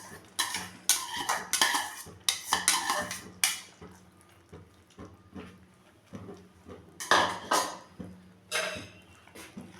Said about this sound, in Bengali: যে সবজিটাও আমি ভেজে রেখেছিলাম সেই সবজিটাও আমি এখন মিশিয়ে নেব